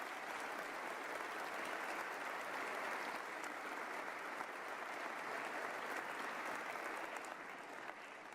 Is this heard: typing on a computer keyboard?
no